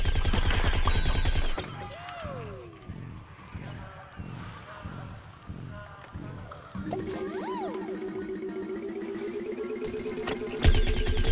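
Gunfire and game effects from the shooter Plants vs Zombies Garden Warfare: a dense burst of rapid shots, then rhythmic repeated blasts and electronic tones, a honking cartoonish cry and another loud volley near the end.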